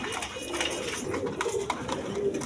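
Pigeons coo steadily at a bird market in Bangladesh, where fresh pairs of rose-beaked and coloured pigeons are on offer; soft overlapping calls repeat close by in a busy, continuous chorus with no talk.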